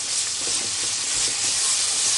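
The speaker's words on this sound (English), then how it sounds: "I'm gonna saute this." Onions with crystal salt sauteing in a pressure cooker, a steady, close hiss and sizzle running throughout.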